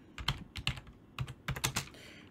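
Quick bursts of keystrokes on a computer keyboard, close and clear, typed in several short runs with brief pauses between them and no voices.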